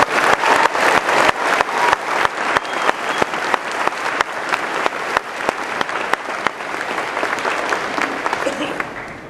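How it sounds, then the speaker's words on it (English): An audience at a high school commencement ceremony gives sustained applause, dense clapping from a large crowd that stays loud for about nine seconds before thinning slightly, with no talk over it. "give these outstanding men and women a round of applause"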